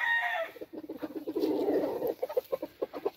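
An American game chicken hen clucks in a quick run of short, close calls, with a brief higher squawk at the start, on a hot summer day in a backyard pen.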